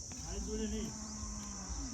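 A cow moos once in a drawn-out, low call, with a steady insect-like hum behind it and no other voices.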